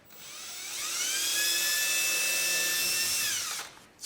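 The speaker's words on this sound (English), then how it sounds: "Then we'll come back here to the back and we'll drill that in there." A power drill drives into a wooden birdhouse being built, a single close, loud whine that winds up, holds steady for about three seconds, then spins down.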